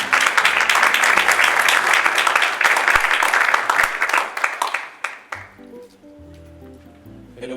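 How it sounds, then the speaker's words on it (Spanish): Audience applause at a book presentation in a hall: steady, dense clapping for about five seconds that tapers off, followed by a single speaker talking. "para que les pido un aplauso."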